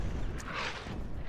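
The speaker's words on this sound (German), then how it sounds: "Weil es Kanonenkugeln schießen von ihren Schiffen aus" Cannon fire from pirate ships in the video game Crumble: one faint, distant boom with a short rumbling burst, set against quiet background noise.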